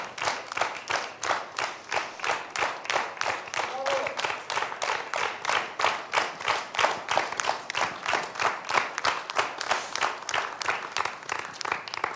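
Studio audience at a televised folk singing contest gala claps in unison, a strong steady rhythmic beat of many hands repeating roughly three times a second throughout.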